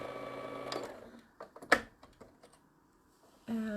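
A quilting sewing machine runs briefly and slows to a stop, followed by scattered clicks and taps of handling parts while a bobbin is swapped, then the motor starts up again at the end.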